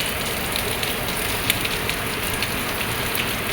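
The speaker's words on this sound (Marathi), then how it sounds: "भरपूर पाऊस आहे" Heavy monsoon rain in Mumbai pours onto surfaces, a dense, steady hiss with scattered louder drops, constant and close, with no talk.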